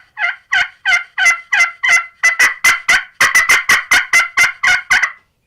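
Purple Heart slate turkey call scratched with a striker, producing a steady run of about seventeen sharp, loud yelps in an even, quickening rhythm, close up with no talking.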